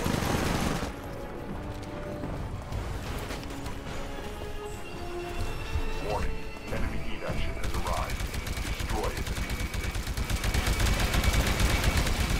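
Rapid SMG fire crackles in a Titanfall beta match on PC, long bursts of dense automatic shots that swell louder toward the end, mixed with game effects and a voice talking over parts.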